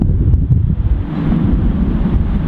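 Steady gusting wind buffets the microphone on an open golf course, a loud, continuous low roar that rises and falls throughout with no voices.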